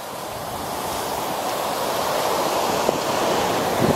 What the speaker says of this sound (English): Check out these waves.